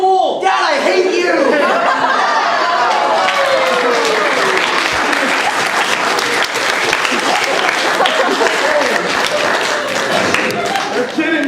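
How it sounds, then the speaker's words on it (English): An improv comedy show audience gives a full, steady round of applause that lasts the whole stretch, with some chuckling and voices mixed into the dense clapping. "a final round of applause for our bike panel!"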